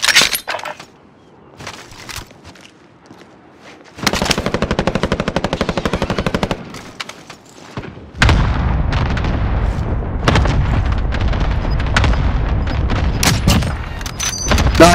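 Rapid automatic gunfire in Call of Duty: Modern Warfare, loud sustained bursts of rattling shots with brief gaps, then a dense continuous stretch of firing and impacts, close and intense.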